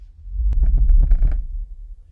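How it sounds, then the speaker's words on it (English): A reconstructed Tyrannosaurus vocalization: a deep, rumbling low growl swells and fades over about two seconds, with a breathy rasp on top, close and loud. "What I really like, Julia, is that this could be the first time for 66 million years that this sound has been heard on Earth"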